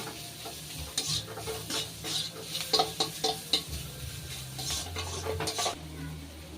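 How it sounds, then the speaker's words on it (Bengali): Onions fry in a pan with salt and turmeric, giving a low, steady sizzle. A utensil scrapes and clinks against the pan in quick bursts, close by, with no voices. "এবার এই নুন হলুদ দিয়ে পেঁয়াজটা আরো একটু সময় ভেজে নেব।"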